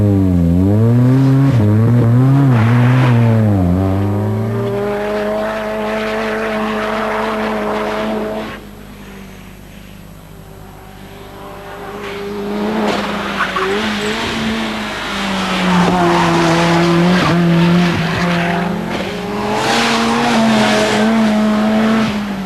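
A Ford Sierra RS500 Cosworth Group A race car driving hard on track, its loud engine rising and falling through gear changes with tire squeal and skidding, close and dominant throughout with no talk.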